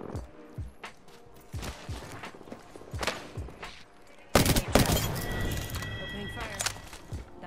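Gunfire in the battle royale video game Apex Legends: repeated sharp shots in short bursts, then a louder, denser stretch of rapid fire and impacts in the second half, with players talking over it.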